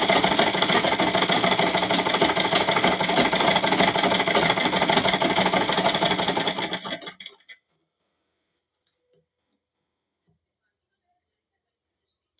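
A tailor's sewing machine runs at a fast, even whir while stitching a double-folded hem on underwear, continuing for about seven seconds before it stops abruptly and leaves near silence.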